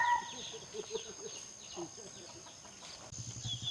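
Chickens clucking and calling in a busy farmyard, with a rooster-like call and people talking faintly in the background.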